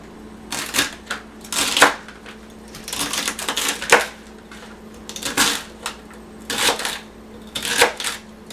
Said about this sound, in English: Now I'm going to chop my celery